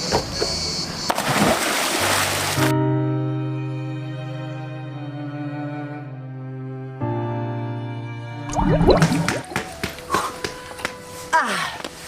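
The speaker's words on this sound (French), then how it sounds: "j'allais pas taper le dernier plongeon?" A person dives into a swimming pool with a loud splash after a stretch of sustained tonal music, followed by sloshing water and scattered clatter close by.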